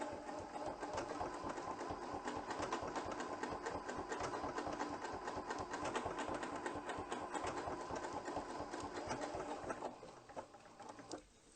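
A Janome sewing machine runs in a continuous fast patter of stitching for about ten seconds, then slows and stops, close and alone with no voices.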